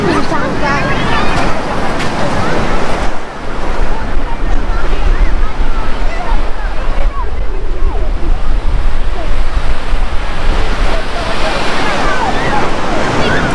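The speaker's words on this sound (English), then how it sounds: "We're at Bournemouth Beach, baby!" Ocean surf rolls at Bournemouth Beach, a loud, steady roar of breaking waves mixed with heavy wind buffeting the microphone and faint voices nearby.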